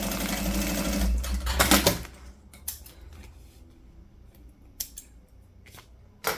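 A sewing machine stitches a seam for a couple of seconds at a 3.5 stitch width on a cube-shaped toiletry bag panel, then stops, followed by sparse clicks and handling taps.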